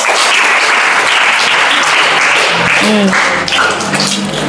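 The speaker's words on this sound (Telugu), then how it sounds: "సో వీళ్ళందరికీ మళ్ళీ క్లాప్స్ మంచిగా" An audience at a school wellbeing talk breaks into loud, sustained clapping that fills the room evenly throughout, with a faint voice briefly underneath.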